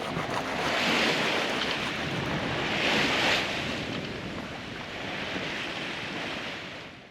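Ocean waves surge around a sailing catamaran at sea, a loud rushing wash that swells twice and then eases, mixed with wind buffeting the microphone and no voices.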